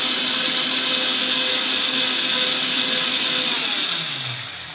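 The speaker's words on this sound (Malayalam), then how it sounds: "ഇനി ഇതെല്ലാം കൂടി ഒന്ന് അരച്ചെടുക്കണം" Mixer grinder blending coriander powder, turmeric and a pinch of garam masala: a loud, steady high whine held for several seconds, then slowing and fading as it stops.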